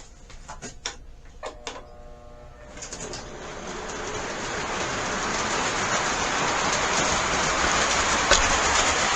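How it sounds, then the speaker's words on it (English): A small model train rumbles along its track, the clattering hum building steadily louder over several seconds after a few sharp clicks at the start. "I'm going to run some trains in the meantime."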